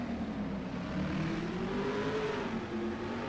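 Stock car engines from a 1980s stock car race roar steadily at moderate distance heading into a turn and chicane, a sustained droning whine that rises slightly in pitch, with no talk.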